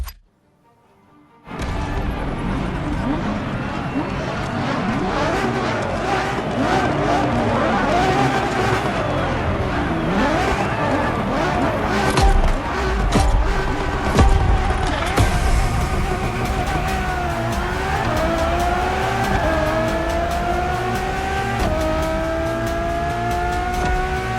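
A Ferrari Enzo supercar roars continuously and loud, its engine revving through rising and falling pitch sweeps as it drives, with tire noise and climbing whine toward the end.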